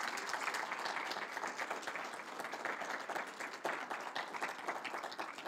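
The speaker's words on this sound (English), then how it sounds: "A round of applause for Westland Honor Guard." An audience at a Martin Luther King Jr. Day ceremony applauds an honor guard with dense, steady clapping that sounds somewhat distant and subdued, running unbroken for several seconds.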